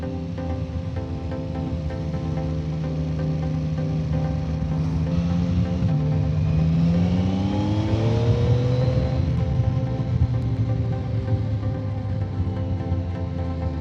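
A Yamaha Tracer 9 GT+ motorcycle with automatic transmission accelerates steadily, its engine note rising smoothly in pitch through the gears, close and loud with no talking.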